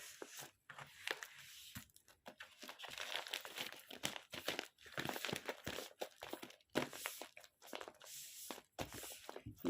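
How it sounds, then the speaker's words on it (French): A parcel envelope is sealed up with quiet, close paper crinkling, tearing and pressing sounds in quick irregular bursts, with no talking. "Maintenant que l'enveloppe est bouclée, je vais sceller encore cette enveloppe."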